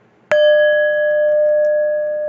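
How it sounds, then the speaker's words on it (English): A bell is struck once, a clear sharp ding that rings on in a long sustained tone, loud and alone in a quiet room. "Spirit wanted me to ring the bell."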